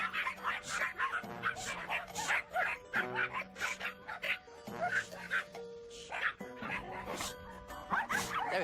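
Small aggressive dog barking and yipping in a dog park, rapid repeated sharp barks mixed with whimpers, under people talking nearby.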